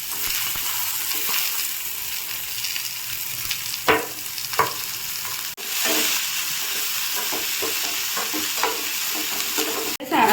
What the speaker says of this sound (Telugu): దీంట్లోకి పచ్చిమిరపకాయలు, తెల్లవాయి, అల్లము, తర్వాత కొంచెం ఫ్రై చేసుకున్నాము